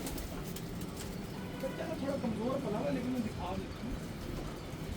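Pigeons in a loft cooing softly in low, rolling murmurs, a few coos rising over steady background noise, with a voice talking through much of it.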